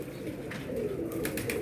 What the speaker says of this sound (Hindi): ये देखें ज़रा नए कबूतर छोड़े हुए ऊपर जाके भी बैठ गए हैं।